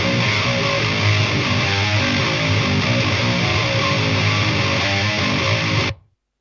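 Heavy, crunchy distorted electric guitar through a Fortin NTS Neural DSP amp simulator plays a chugging riff at close range, loud and saturated, then cuts off abruptly near the end.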